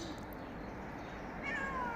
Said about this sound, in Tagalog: yan mga alaga kong pusa